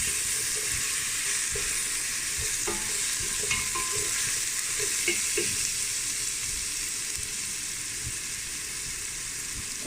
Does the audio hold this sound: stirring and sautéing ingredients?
yes